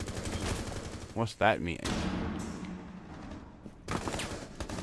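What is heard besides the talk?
gunfire in video game Rainbow Six Siege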